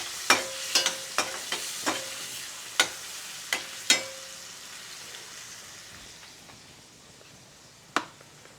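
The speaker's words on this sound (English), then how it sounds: "Give that a stir." Curry of raw tomatoes and salt stirred in a pan, a spoon knocking the pan in quick irregular clanks at first, then sparser taps over a soft steady sizzle.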